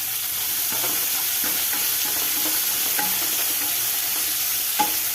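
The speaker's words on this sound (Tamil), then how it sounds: "இந்த வெங்காயமும் குடமிளகாய் வதங்கட்டும்" Onion and capsicum sautéing in a pan for capsicum rice, a constant loud sizzle broken by occasional scrapes of a stirring spoon, close up with no voices.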